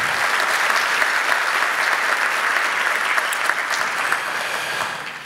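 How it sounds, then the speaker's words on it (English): Audience applause at a water summit fills the room, a dense steady clapping from a large crowd that holds loud and even before tapering slightly at the end. "Give him a big round of applause,"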